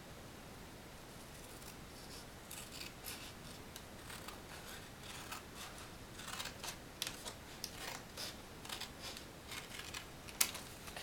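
Scissors cut through an index card along a diagonal, a run of faint, crisp snips and paper rustles repeating irregularly at close range, with no talk over them.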